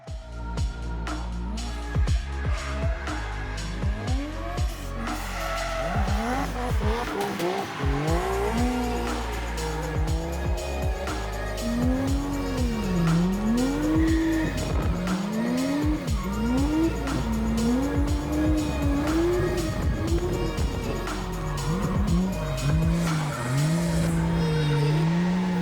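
A Nissan Skyline drifts around the Ebisu circuit in Japan on a patchy, drying track, its tires squealing in long wavering howls while the engine revs rise and fall continuously, loud and close throughout.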